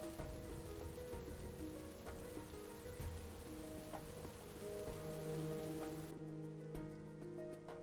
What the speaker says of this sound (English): then we can turn down the rain because that's really loud